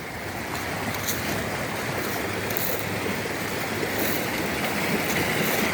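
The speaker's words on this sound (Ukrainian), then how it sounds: "Дивіться, вирує вода." Water rushes and churns steadily in a gully, the Kozak Mandryka ravine in Ukraine, a dense broadband roar with some wind, continuous and fairly loud throughout.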